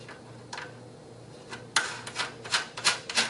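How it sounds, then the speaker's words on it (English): Thumb screws on an Orion StarBlast 4.5 telescope are turned tight, giving a series of short scraping, ratcheting rubs that come faster and louder toward the end, close and quiet with no talk. "simply screw on the thumb screws. You want to make sure that they're nice and tight"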